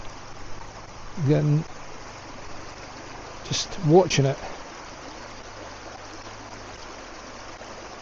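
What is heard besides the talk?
small running stream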